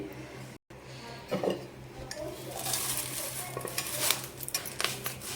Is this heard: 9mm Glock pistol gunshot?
no